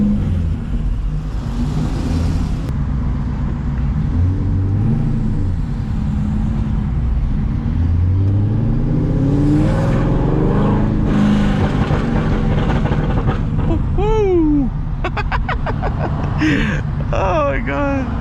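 A C6 Corvette with an LS V8 rumbles and revs loudly while driving, a deep throaty drone that swells through gear pulls, with tire and wind roar and voices talking over the engine close inside the car.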